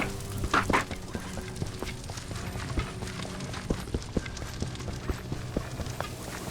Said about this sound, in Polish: Trochę mi się nie podoba ten dźwięk biegania, bo kojarzy mi się z takim kopaniem w ziemi w Minecrafcie ręką gołą.